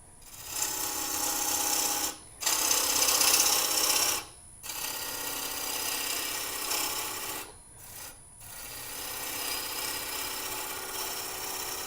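A wood-turning gouge cuts a wooden bowl spinning on a lathe, a steady loud rasping hiss that runs in long passes, broken by brief pauses as the tool lifts off the wood.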